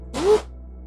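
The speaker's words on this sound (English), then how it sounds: "That's the blow dryer falling out of my lap." A blow dryer drops out of someone's lap, making a single short rustling clatter that fades quickly, close to the microphone in an otherwise quiet room with a low steady hum.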